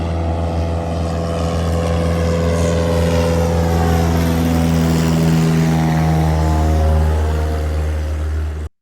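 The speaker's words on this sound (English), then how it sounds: "I've had a float plane going back and forth, so we might actually hear it go by" A float plane's propeller engine drones loud and steady over cottage-country water, a continuous close roar with a slowly shifting pitch as it passes, cutting off abruptly at the end.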